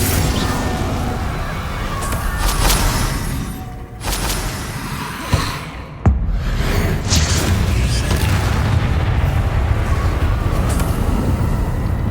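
A Confringo fire spell explodes in the Hogwarts Legacy game, a sharp blast and crack standing out briefly over dense, loud combat noise and rumble.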